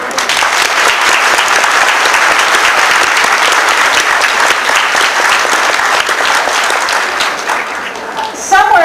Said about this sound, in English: What I want you to do now is give a round of applause